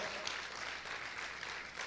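A congregation applauding at a church service, with soft, diffuse clapping from a crowd heard at a distance, brief and fairly faint.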